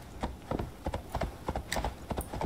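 Horse hooves clip-clop in a quick, steady rhythm as a rider leaves a city on horseback in the video game Assassin's Creed Valhalla, sounding close and moderately loud with no talking.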